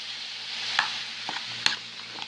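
Irish macaroni and cheese stirred in a pan over a soft, steady sizzle, with a few distinct scrapes and knocks of the utensil against the pan, close and fairly quiet.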